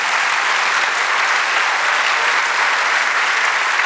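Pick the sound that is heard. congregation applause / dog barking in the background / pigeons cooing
congregation applause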